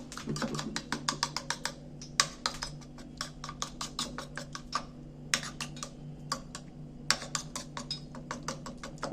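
Four eggs with salt beaten in a bowl, a quick run of sharp clinking strokes in uneven bursts with brief pauses, close and fairly quiet.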